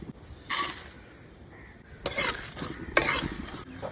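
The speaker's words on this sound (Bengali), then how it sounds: "ফুচকা বানানোর জন্য কিছু গোটা মশলা গরম করে নেব" Whole coriander, cumin, dried red chilies and black peppercorns being dry roasted in a pan, with three bursts of rattling, scraping stirs and clinks against the metal, close and fairly clear, no talking.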